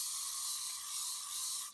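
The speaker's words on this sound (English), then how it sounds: "spray it and literally dunk it over, and then spray it quick again" A steady, close hiss of an aerosol spray held continuously for almost two seconds, cutting off abruptly at the end.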